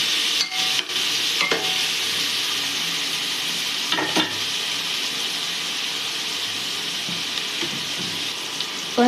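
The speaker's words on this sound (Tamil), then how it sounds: "இது பொன்னிறமாக ஆகிற வரைக்கும் நல்லா வதக்கணும்" Onions and green chillies sautéed in a pan, a continuous close frying hiss with scattered spatula scrapes and clinks against the pan, no voices present.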